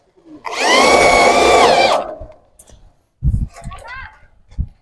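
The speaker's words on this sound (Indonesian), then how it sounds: "Kemudian dibor." Power drill boring into a lightweight steel roof truss, one loud whining burst of about a second and a half, followed by clanks and someone talking nearby.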